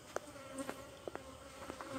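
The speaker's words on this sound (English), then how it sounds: "If you notice some of them buzzing around my head." Bees buzzing close around a person's head outdoors on a sunny morning, with a faint steady drone and several brief louder passes as insects fly near, no talking.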